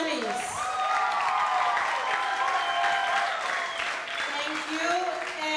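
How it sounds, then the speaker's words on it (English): A debate audience gives a sustained round of applause for the semifinalists: steady, full clapping that swells and then eases slightly, with a voice faintly audible over it. "round of applause to all those who made it to the semis"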